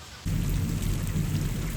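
Heavy rain suddenly swells into a dense, steady roar with a deep thunder rumble beneath it, loud and continuous.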